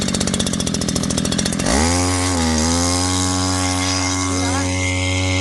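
A small two-stroke 4 hp boat engine revs hard: a rattling idle rises abruptly into a loud, sustained high-pitched drone that climbs further, close and alone.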